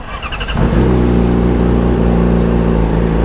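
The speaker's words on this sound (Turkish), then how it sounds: "şu anda susturuculu haliyle sesini dinleyeceksiniz motorun" A Yamaha R6 sport motorcycle with its stock muffler fitted cranks briefly, then catches and settles into a loud, steady idle close by, with no talking.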